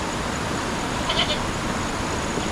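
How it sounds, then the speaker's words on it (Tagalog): A single short goat bleat sounds faintly at a mountain farm, nearly buried under the steady hiss of heavy rain. "At maarte po yung mga kambing."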